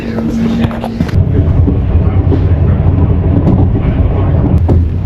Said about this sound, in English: So this is a much longer train ride.